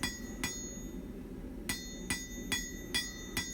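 A blacksmith hammers a hot steel bar into a smooth taper, striking six ringing metallic blows, one isolated and then five in an even rhythm, over a low background rumble, with no talking.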